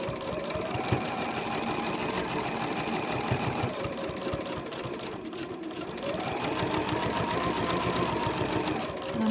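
A sewing machine stitches fabric bunting flags, running as a loud, steady, close mechanical whir that dips briefly and then picks back up.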